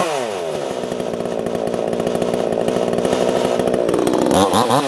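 A VEVOR 62cc chainsaw with a 20 inch bar, already warmed up, runs loud and close with a steady buzzing idle that swells into a revving whine near the end, with no talking over it.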